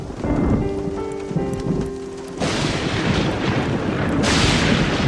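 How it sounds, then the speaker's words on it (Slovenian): Heavy rain pours down steadily as a dense broadband hiss, growing louder and fuller partway through, with no voices, in a Slovene-dubbed cartoon. "Dežuje kot iz škafa."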